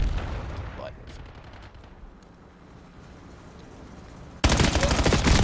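Gunshots during a competitive shooter match, with a loud burst at the start, then quieter distant shooting and game sounds, before a sudden heavy, sustained volley at the end. A caster's voice is heard over it.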